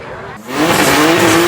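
A BMW race car at a street race roars up close, the engine pitch climbing steadily as it accelerates hard, loud and sustained after a brief dip.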